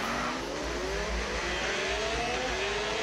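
A race car engine revs steadily at high pitch on a warm-up formation lap, loud and close from on board, a continuous rising mechanical whine over a deep rumble, with no talking.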